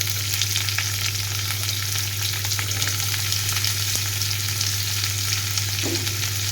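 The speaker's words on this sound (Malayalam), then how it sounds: "നമുക്കതിലേക്ക് സബോള ഇട്ട് കൊടുക്കാം കേട്ടോ." Onion frying with ginger and garlic in a pan: a steady, close sizzling crackle that continues without pause over a low constant hum.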